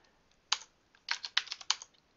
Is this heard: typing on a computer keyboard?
yes